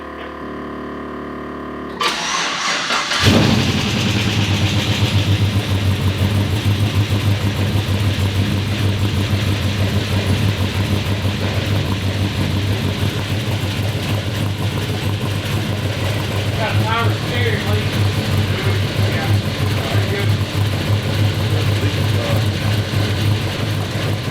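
Freshly cammed LS V8 in a C10 truck fires up after a brief crank and settles into a loud, steady, lumpy idle that runs continuously and close by.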